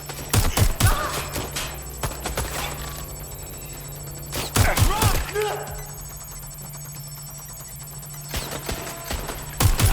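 Gunfire from the video game Watch Dogs Legion: sharp rapid bursts at the start, middle and end, separated by quieter game sound with voices speaking.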